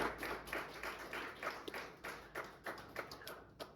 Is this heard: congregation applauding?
yes